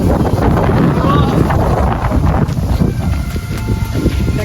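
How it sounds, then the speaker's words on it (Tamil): Strong wind buffets the microphone at Malampuzha Dam in Palakkad, a loud, continuous roaring rumble with gusty swells that runs throughout. "காற்று பயங்கரமாக அடிக்குது"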